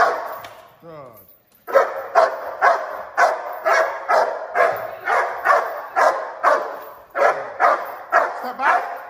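Belgian Malinois dog barking during a civil aggression assessment, a long run of loud, steady, evenly spaced barks close up, after a brief whine and a pause at the start.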